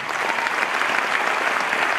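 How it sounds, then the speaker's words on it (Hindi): A crowd at a family celebration breaks into loud, dense, continuous applause honoring the ladies, a steady wash of clapping with no pauses. "सभी देवियों के लिए जोरदार ताली"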